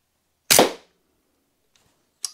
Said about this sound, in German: die Pfeile sind definitiv eingedrungen